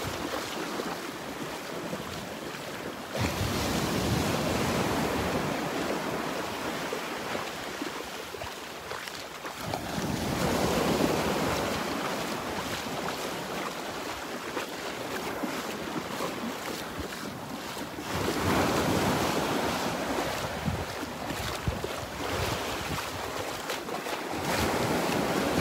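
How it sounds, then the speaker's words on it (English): Ocean surf washes onto a beach in North Naples, Florida, steady rushing waves rising and falling in surges with wind buffeting the microphone, no voices. "On these beautiful beaches. Miles and miles and miles and miles and miles of beautiful beach."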